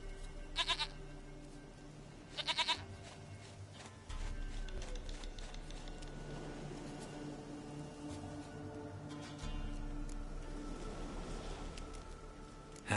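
Goats bleat in The Witcher 3: two clear clusters of wavering bleats early on, then more scattered ones. They sit against a quiet rural game ambience with low hums and faint background sounds.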